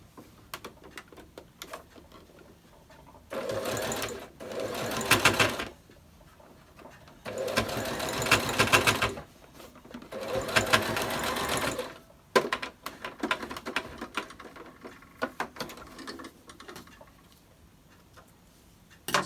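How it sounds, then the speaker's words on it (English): A sewing machine runs a straight stitch on a fabric face mask in three bursts of steady rapid whirring, separated by brief pauses filled with light ticks and handling noises. "So this is just a regular straight stitch that you're using."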